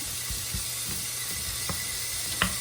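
Bacon fries in a pan for fried rice, a steady hiss of sizzling filling the clip, with a few soft pops and crackles breaking through now and then.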